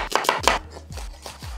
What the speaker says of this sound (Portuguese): Vou cortar a cebola para fazer o arroz.